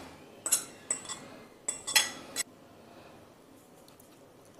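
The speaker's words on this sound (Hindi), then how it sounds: "सबको अच्छे से मिला लेंगे।" A spoon clinking against a bowl while mixing a paneer and potato kofta mixture with ginger, green chilli and coriander: several sharp metallic taps in two quick clusters, then quieter soft stirring.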